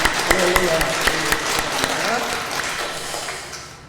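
A church congregation applauds at a Sunday morning service. Sharp individual claps start the burst, then it fades into a softer, thinning patter over a few seconds.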